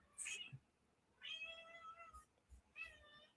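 A pet cat meowing: three drawn-out, tonal meows with short gaps between them, faint and slightly distant in a quiet room.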